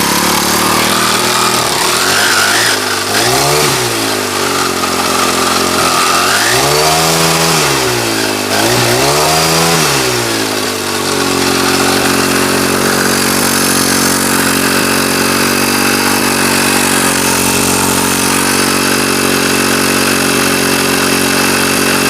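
A Honda GX22 bush cutter engine, running after a carburettor replacement, roars loud and close, revving up and down in several surging waves before settling into a steady high buzzing run.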